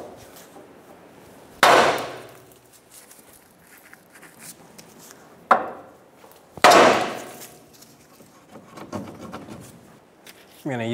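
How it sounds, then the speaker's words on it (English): A hammer strikes the front suspension arm of a 2012-2016 Subaru Impreza during CV axle replacement: three sharp, loud metallic blows, close by, spaced several seconds apart, with quiet talking and light shop noise between them. "I'm gonna hit it with a hammer. Hit this area on either side."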